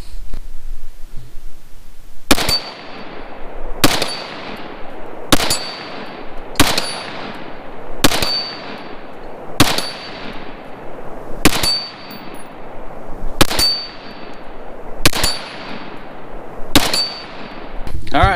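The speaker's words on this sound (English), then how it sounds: "I'm gonna continue shooting and we'll take a look at it after about" Ten sharp 5.56 rifle shots fired at a steel target 50 yards away, each crack followed by a ringing metallic decay, spaced about one and a half seconds apart and loud throughout.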